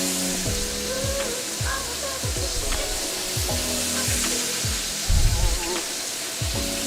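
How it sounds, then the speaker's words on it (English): Batch of steak strips dropped into a hot pan for Korean BBQ bibimbap, a steady hiss of frying with a sharper burst of sizzle partway through. "here's my final batch of steak going in"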